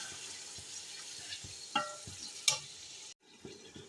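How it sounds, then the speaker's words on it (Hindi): Beef stirred together with masala in a pot for pulao: soft sizzling and frying hiss under rhythmic scraping and clinking of a spoon against the pot, a few sharper knocks, close and moderately quiet, no speech. "इसको अच्छी तरह मिक्स कर लेना है।"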